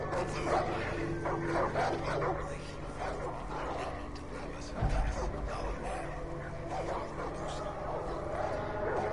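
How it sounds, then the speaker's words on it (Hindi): Dogs bark and yip in Far Cry 5, several animals at a middle distance, while someone talks over them throughout. "वो भाई ये कुत्ते कहाँ से भौंक रहे हैं."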